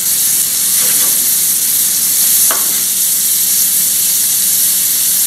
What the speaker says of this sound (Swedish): Steker den i smör, steker med lite lök.